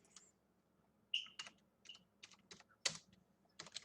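Quiet keystrokes on a computer keyboard, a scattered run of separate clicks and short bursts with pauses in between, close and with no talking.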